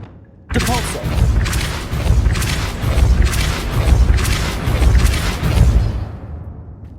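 The Depulso spell cast in Hogwarts Legacy: a sudden loud burst followed by several seconds of booming, rumbling crashes and whooshes that slowly fade away.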